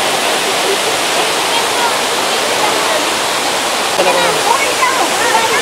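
Hinulugang Taktak waterfall in Antipolo roars in a loud, dense, unbroken wash of falling water, close by and filling the whole scene steadily.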